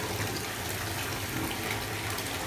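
Bath bomb fizzing in a bathtub as it fills, a steady broadband rush of running and bubbling water holding constant and fairly close throughout, with no voices.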